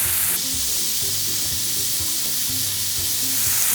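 Bulgogi beef sizzling and browning in a pan as its liquid cooks off, a loud steady crackling fry with soft scraping stirs, close up and uninterrupted.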